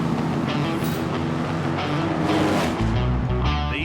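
Top fuel dragster roaring off the start line, a thunderous, continuous engine blast that fills everything, with a deep low rumble surging in near the end.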